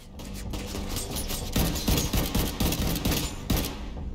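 Rapid bursts of automatic gunfire from a rifle in The Division 2 shooter, loud and close, with dense repeated shots and a few sharper cracks over a continuous game soundscape.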